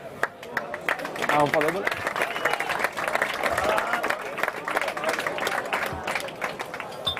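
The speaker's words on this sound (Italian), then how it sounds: "Applauso." Audience applause at an amateur football awards gala, uneven clapping that swells and carries on under people chatting and a voice speaking close by.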